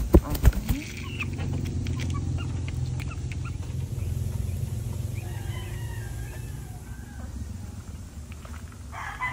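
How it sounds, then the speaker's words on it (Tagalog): Chickens cluck and crow outdoors over a steady low rumble, with a brief clatter at the start. "Manok, habon ng habon, nagugutom na."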